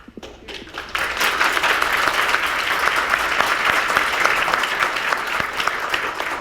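Audience applause fills a township board meeting, rising quickly after a brief pause into sustained, dense clapping from a large crowd that continues loudly throughout.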